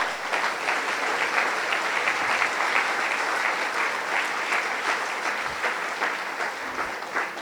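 A church congregation applauds, steady dense clapping from many hands continuing for several seconds at moderate loudness, fading slightly near the end.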